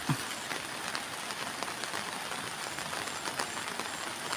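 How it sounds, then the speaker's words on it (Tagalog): Heavy rain pours steadily onto a flooded vegetable garden of okra and string beans, a dense, loud hiss of drops with no pauses. "lakas po ng ulan."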